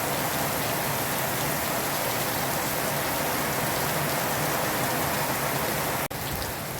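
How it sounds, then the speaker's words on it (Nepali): Sudden heavy rainfall around Gangtok, a dense, loud, unbroken roar of rain pounding surfaces that holds steady and then cuts briefly near the end. "अचानक पानी पऱ्यो"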